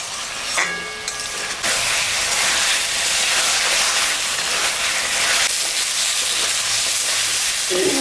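Spices and tomato fry in a pan for a fish curry, giving a loud, steady sizzle and hiss with faint scraping of stirring underneath, rising sharply after the first second and continuing throughout.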